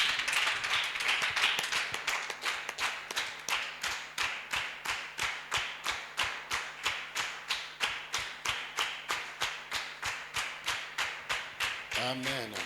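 A church congregation at a prayer and fasting service claps for Jesus in a steady, rhythmic beat, many hands striking together in even time, with a cheering crowd noise at the start and no one speaking over it.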